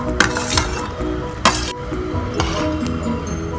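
Washed mango pieces drop into a pot of simmering Kerala-style ribbon fish (vala) curry with coconut milk, giving a few soft splashes and sharp utensil clinks against the pot over a low bubbling background.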